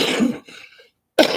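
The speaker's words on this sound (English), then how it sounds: "yes, I have a bad cough." A single harsh cough bursts out close to the microphone, followed by a short pause and then the start of another rough cough or throat clearing.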